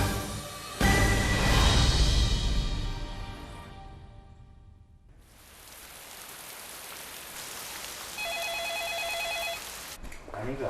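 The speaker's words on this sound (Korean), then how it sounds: "동물병원으로 걸려온 한 통의 전화" A telephone rings at an animal hospital, a short repeated electronic ring heard late and fairly quietly, after an earlier stretch of loud rain-like noise and ambient sound.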